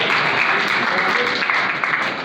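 Crowd clapping at a school annual results ceremony continues steadily and fairly loud, easing off slightly toward the end, with some voices underneath.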